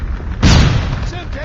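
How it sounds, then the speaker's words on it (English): A flashbang grenade detonates in Call of Duty Mobile, one loud sudden blast in a noisy battle soundscape, with a ringing wash trailing off afterward. "Flashbang!"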